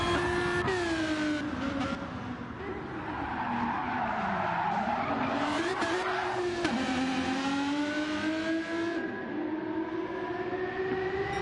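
A supercharged car in Gran Turismo drives along Grand Valley Highway with a loud, continuous high-pitched supercharger whine over the engine note, rising and falling in pitch as the car accelerates and shifts.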